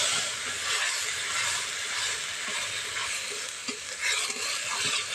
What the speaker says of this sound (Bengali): হালকা থেকে মাঝারি আঁচে মশলাটা ভালো করে আমি কষিয়ে নিচ্ছি